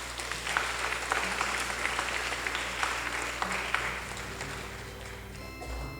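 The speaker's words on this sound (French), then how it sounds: "Sous vos applaudissements s'il vous plaît." Audience applause fills a hall at a 33rd anniversary ceremony, steady dense clapping from a crowd that carries on for several seconds and then thins toward the end.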